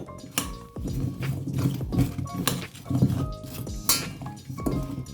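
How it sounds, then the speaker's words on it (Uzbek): Pumpkin pieces in sauce are stirred in a pan, with repeated clinks and scrapes of a utensil against the metal in an uneven rhythm, close and moderately quiet. "Hozir endi buni aralashtiramiz yaxshilab."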